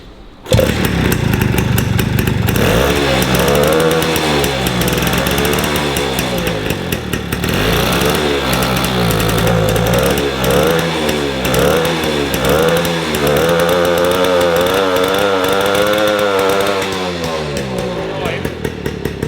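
A 1953 MV Agusta 125 Pullman's small single-cylinder engine revs loudly up close, its pitch surging and falling in repeated blips over a buzzy idle.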